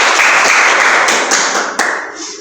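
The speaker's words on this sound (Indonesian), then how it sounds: "Beri aplaus untuk Rosma." Classroom applause for a student named Rosma, a burst of many hands clapping that starts at once and tapers off over about two seconds.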